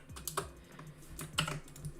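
Keys clack on a computer keyboard in quick, uneven bursts of close typing, with a few sharper strokes standing out against a quiet room.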